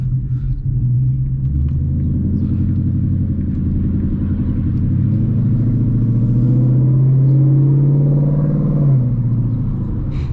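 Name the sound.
Ford Mustang GT 10-speed driving onto the freeway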